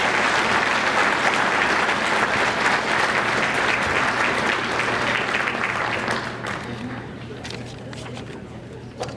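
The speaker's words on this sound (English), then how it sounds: "How about a big round of applause for our past inductees?" A banquet crowd at a sports hall of fame induction ceremony gives a big round of applause for past inductees: loud, dense clapping that holds steady and then gradually thins out toward the end.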